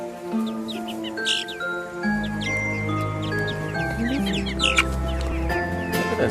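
Chickens on a farm cluck and murmur close by, several birds calling over one another in short irregular bursts, with a low rumble beneath in the middle.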